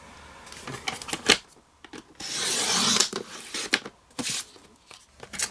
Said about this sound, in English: grab your trimmer and trim off 2 inches